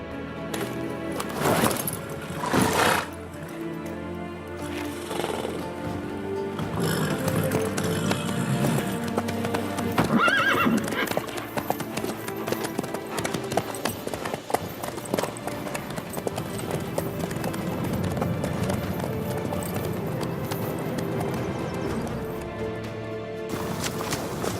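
Horse hooves clop steadily in The Witcher 3, with an occasional whinny, under game ambience and voices talking through the clip.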